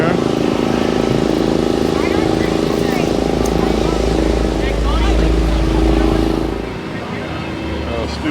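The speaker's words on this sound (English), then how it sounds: "I got some of the cruisers coming through again" Classic cruiser cars, including a Studebaker pickup, rumble past steadily at the Ontario Route 66 Cruisin' Reunion Friday cruise and car show, engines droning loud and close with talk over them.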